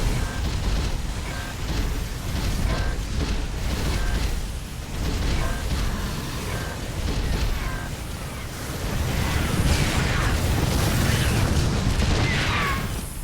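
Archons attacking Banshees and turrets in StarCraft 2, producing a dense stream of repeated energy blasts and booming impacts that continue steadily with no talk over them.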